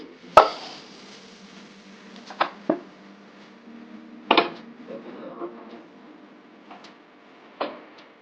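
A metal milk pot set back down onto a gas stove, giving a sharp clank at the start followed by several lighter knocks and clatters of kitchenware against a steady low burner hum, with no talking.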